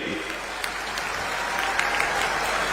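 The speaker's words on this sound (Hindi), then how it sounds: "एक बार जोरदार तालियों से स्वागत करिए" An audience applauds loudly to welcome Rahul Gandhi at a housing justice conference in Chhattisgarh, with steady dense clapping sustained throughout and no talk over it.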